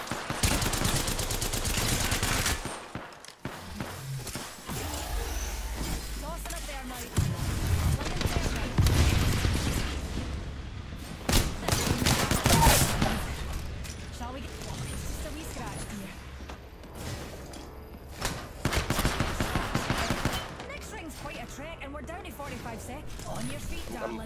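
Sustained automatic gunfire in a shooter game with the trigger held down: long loud bursts of rapid shots recurring throughout, with players talking and shouting over the shooting.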